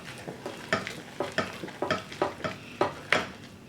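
A shepherd's pie mixture is stirred in a pan, about a dozen rhythmic scraping strokes of the spoon over a soft sizzle, close and fairly quiet.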